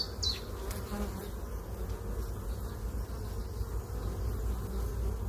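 Honeybees busy at an open hive during an inspection, a dense, continuous close buzzing drone with scattered louder passes of individual insects.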